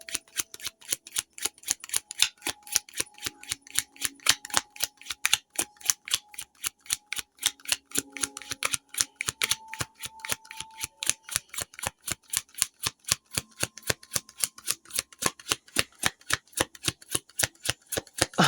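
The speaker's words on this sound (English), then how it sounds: "That was an impressive amount of cards to shuffle." Rapid, crisp card riffling repeated steadily for a long stretch, a dense run of sharp clicks and flutters close to the listener with faint tones underneath.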